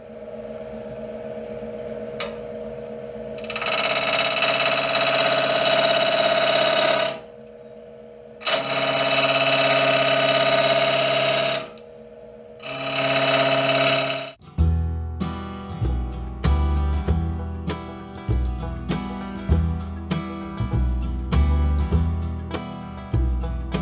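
A wood lathe spinning a bloodwood bowl at about 1,000 RPM gives a steady, droning motor whine in several runs separated by short pauses, followed by a stretch of rhythmic music.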